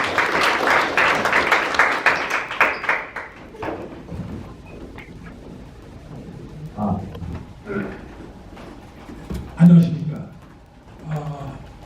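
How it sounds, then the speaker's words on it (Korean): An audience claps at a Korean community sports team launch ceremony in Atlanta, with a burst of applause lasting about three seconds that fades into scattered claps, followed by someone speaking over a microphone. "큰 박수로 부탁드리겠습니다."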